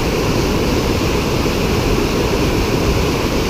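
Strong, heavy water of Malingin Falls in Pulangbato, Cebu City, swollen by hard rain, roars in a steady, loud, unbroken rush with deep low rumble throughout.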